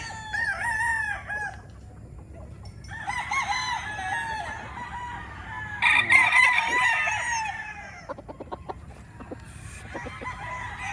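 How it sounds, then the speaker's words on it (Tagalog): A Kelso gamefowl rooster kept for breeding crows several times in a row. The drawn-out calls come close and loud over a low background hum. "Ito, isang kelso na gagamitin sa breeding."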